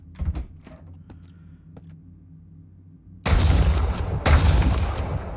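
Gunfire erupts in the survival game Mist Survival, two loud bursts of close shots after a stretch of quieter rustling and clicks.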